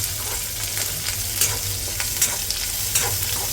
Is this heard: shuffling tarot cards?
no